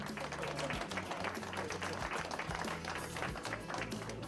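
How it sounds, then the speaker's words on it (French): A crowd claps steadily throughout, with a voice speaking over the applause. "Applaudissez s'il vous plaît ce grand champion, Alexis Goujard, Pavie-Barentin."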